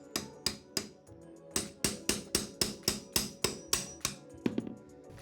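A hammer taps a crowbar in behind a baseboard, about fourteen sharp, evenly paced metallic knocks, close and clear, with no talking.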